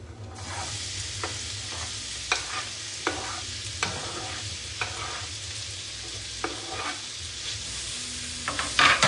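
Steady sizzling of onions frying in a pan, a constant hiss broken by occasional scraping stirs and clicks, close up with no talking.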